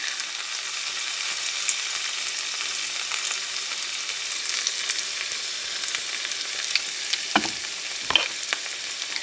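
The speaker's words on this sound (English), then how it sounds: "I'm going to add some cooking oil, going in with potatoes" Potatoes fry in cooking oil over medium heat, a dense, even, close sizzling hiss that holds steady throughout, with a couple of faint clinks of a utensil near the end and no talking.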